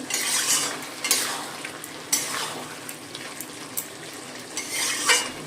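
A pan of bottle gourd cooked with shrimp and a little sugar is stirred, the spoon scraping and clinking in short strokes over a soft bubbling sizzle, close up and without voices.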